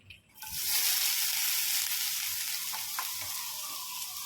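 Grated carrot hits hot homemade ghee for carrot halwa, a soft thump followed by a loud, continuous close-up sizzle that stays steady throughout with faint stirring.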